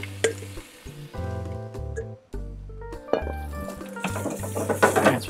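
Brussels sprouts sizzle in an oiled grill pan on a Pit Boss Pro Series Combo grill. A soft frying hiss swells in the second half, partly masked by steady background music.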